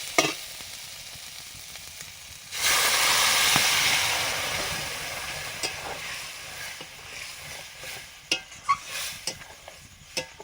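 Boiled potatoes and peas drop into a spice paste already frying, setting off a sudden loud sizzle that fades gradually and gives way to sharp spatula clinks and stirring scrapes.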